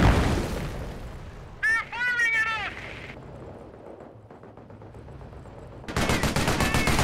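Squad rifle and machine-gun fire in the Company of Heroes: Tales of Valor Market Garden campaign, sharp bursts at the start and a dense crackling volley near the end, with spoken unit orders in between.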